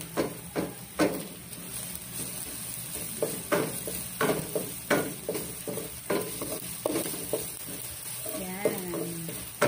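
Food browns in a hot pan with a steady, moderate sizzle, broken by repeated sharp scraping and stirring strokes, with a brief voice near the end.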